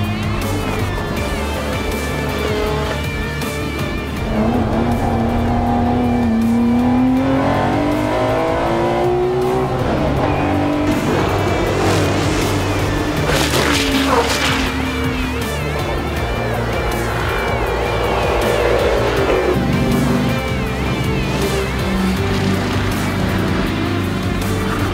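Historic race cars that once ran the 24 Hours of Spa roar around Spa-Francorchamps, engines revving and rising in pitch as they pass one after another, loud and continuous through the whole stretch.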